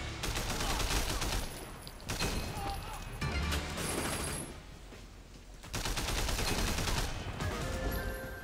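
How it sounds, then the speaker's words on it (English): Bursts of machine gun fire in the video game Triad Wars, rattling in long rapid volleys with short pauses between them and heavy game ambience throughout. "Oh, someone's got a machine gun."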